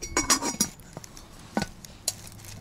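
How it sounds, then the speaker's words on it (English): A lid is set onto a 16cm Zebra camping pot holding a Fray Bentos mince beef and onion pie, outdoors in the woods: a quick cluster of close metallic clinks and rattles, then a few sparser single clinks. "And then I'll put the lid on."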